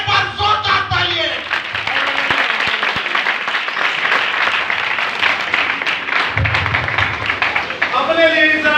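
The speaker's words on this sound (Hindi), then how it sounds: "अपने लिए एक बार जोरदार तालियां" A church congregation bursts into loud, sustained applause that fills the room continuously from start to finish, with a voice briefly audible over it near the beginning and again toward the end.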